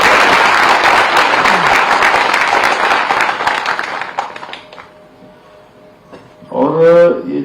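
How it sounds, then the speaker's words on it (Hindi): A crowd at an Uttarakhand event applauds students with dense, sustained clapping that fades after about four seconds, followed by a brief voice speaking. "एक बार इन सब बच्चों के लिए ताली बजा दीजिए।"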